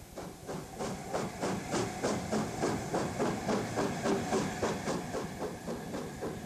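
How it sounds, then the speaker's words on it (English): A steam locomotive, the A4 Miles Beaver, departs on an up train with rhythmic, evenly spaced exhaust chuffs and hiss, steady and moderately close, on a 1960s North-East railway. "Miles Beaver departs on an up train"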